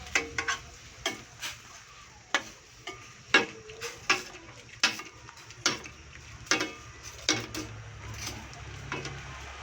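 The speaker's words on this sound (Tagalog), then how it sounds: "Kailangan natin haluin yung gata para hindi makorta." Coconut milk being stirred with string beans and shrimp in a pot for ginataang sitaw, giving repeated clacking spoon scrapes at an irregular rhythm over a soft simmering background, fairly quiet and close.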